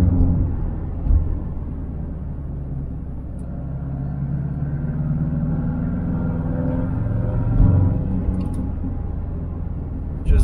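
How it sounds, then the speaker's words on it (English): Subaru STI with an EJ25 engine cruising gently in third gear without boost, a steady low engine rumble and road noise heard from inside the car, with no talk. "Delicate driving, third gear right now."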